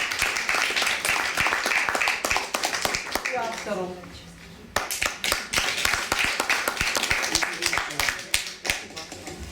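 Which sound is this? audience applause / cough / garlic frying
audience applause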